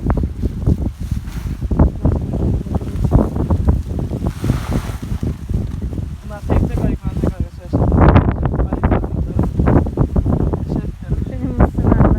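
Strong wind buffets the microphone in a continuous low roar in an okra garden during harvest, gusting harder toward the end, with water noise and occasional voices underneath.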